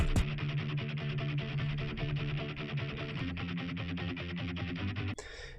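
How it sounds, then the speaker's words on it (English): A dubstep track with a low, steady bass guitar line pulsing under a repetitive beat, then cutting off abruptly near the end. "I have a bass guitar coming in first"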